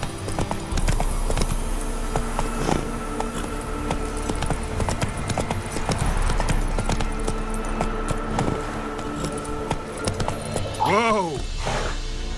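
A horse galloping in The Witcher 3: Wild Hunt – Blood and Wine, with continuous fast hoofbeats and a loud neigh near the end, heard over game music and a brief voice.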